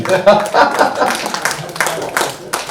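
Listeners at a Mumbai mushaira poetry gathering in a hall clap in scattered, uneven bursts, with voices talking over and between the claps.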